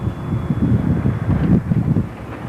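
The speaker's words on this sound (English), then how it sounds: "There is quite a bit of wind here" Steady gusting wind buffets a Zodiac rescue boat on open water, a continuous low rumbling roar with surging swells, close to the microphone and unbroken by voices.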